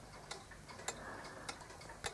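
Hermle 8-day Westminster chime mechanical wall clock ticking, faint evenly spaced ticks at a steady slow pace against quiet room noise.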